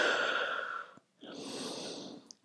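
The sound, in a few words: deep breathing during yoga child's pose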